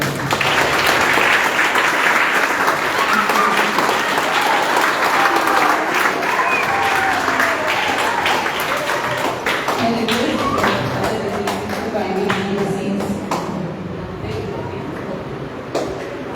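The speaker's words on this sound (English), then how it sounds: "Thank you very much for your big applause." An audience at a plastic pollution awareness talk gives a warm welcome with sustained clapping, dense at first and thinning toward the end, while a voice speaks over part of it.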